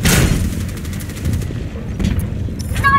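A sniper rifle firing during an Overwatch match: a sharp loud report at the start booms out over dense game noise and battle clatter, with further muffled impacts and bursts following, plus scattered game voice chimes.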